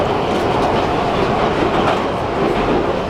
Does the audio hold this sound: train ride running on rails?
yes